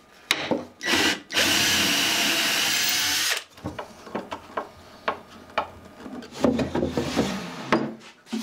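A power drill whirs steadily for a few seconds while boring holes into scrap wood for a printer stand, followed by scattered knocks, scrapes and handling noises of wood being moved.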